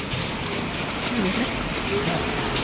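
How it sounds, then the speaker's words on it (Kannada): Heavy rain roars in a dense, unbroken wash of noise, with a faint voice barely audible beneath it. "ಮಳೆ ಫುಲ್ ಜೋರು ಐತೆ"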